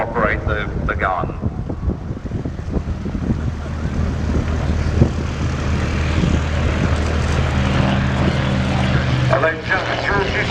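A Rolls-Royce engined propeller aircraft painted in 15 Squadron markings at Old Warden, its steady loud engine drone running through the whole stretch with wind buffeting and a voice talking over it.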